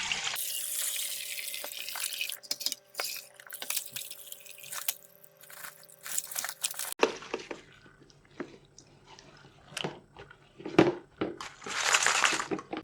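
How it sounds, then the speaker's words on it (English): Water is poured and strained through a colander while making a homemade chicken grit supplement, with close splashing and trickling, scattered drips and a few crunchy clatters. No voices. "Then strain everything through a colander."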